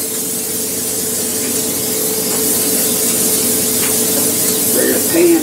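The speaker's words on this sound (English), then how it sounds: "Use a little cooking spray." Cooking spray hisses onto a pan in one long, loud, steady spray lasting several seconds, close up over a faint hum, ending with a brief knock.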